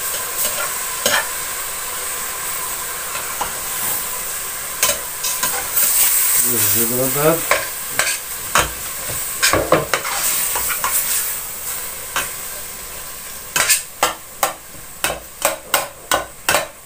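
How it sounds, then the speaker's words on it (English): Ground meat browning in a pan for Bolognese sauce, a steady sizzle and frying hiss throughout with sharp stirring and scraping clicks, a brief voice mid-way and regular tapping toward the end. "you want to brown it, it has to be get really frying"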